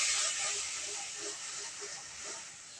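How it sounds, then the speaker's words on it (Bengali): Spice paste fries in a pan with a steady, faint sizzling hiss, close and continuous, with no other sounds over it. "মশলাটা এখন ভালোভাবে কষিয়ে নেওয়া পর্যন্ত অপেক্ষা করব।"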